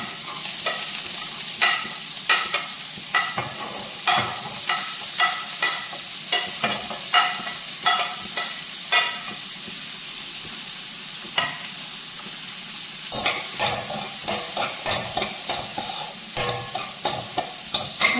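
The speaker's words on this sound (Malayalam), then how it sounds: "ഇത് നമുക്ക് ഈ ബട്ടറിലിട്ട് നമുക്കിതൊന്ന് ഒന്ന് വാട്ടി ഇങ്ങെടുക്കാം" Beans and capsicum sauté in butter in a pan, a steady soft sizzle punctuated by repeated rhythmic scrapes and taps of a spoon stirring, close and clear with no talk.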